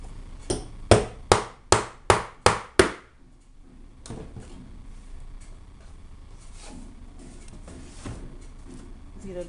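A hammer drives a small nail into a wooden spool with six sharp, evenly spaced taps at close range, followed by a few quieter knocks and handling sounds.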